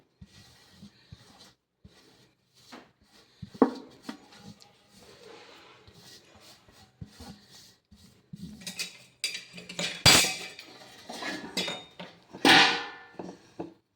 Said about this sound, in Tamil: இந்த மாவை வறுக்கணுங்க